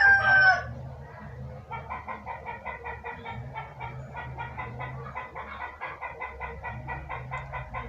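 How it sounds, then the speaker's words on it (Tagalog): A rooster crows loudly at the start, then hens cluck repeatedly in a busy, rhythmic chatter from close by. "saba kang manok nanguwag"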